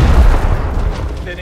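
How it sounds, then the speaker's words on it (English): A frag grenade goes off in Gears Tactics as a heavy, booming low rumble that decays over about a second, with a voice speaking over it. "Throwing frag!"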